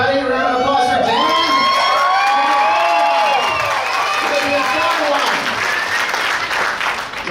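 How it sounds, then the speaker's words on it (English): Comedy club audience bursting into loud applause and cheering for comedian Dan Cummins, with whoops and shouts over dense clapping that holds strong throughout before easing slightly at the end. "Round of applause for Dan."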